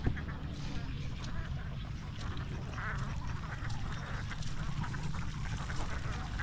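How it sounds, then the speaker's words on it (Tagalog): Farm ducks quacking in a noisy flock, overlapping calls over a steady background murmur, moderately close and continuous. "At doon po natin sila ilalagay ang ating mga itik."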